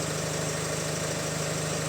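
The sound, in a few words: Opel Insignia B16DTH engine idling with timing chain rattle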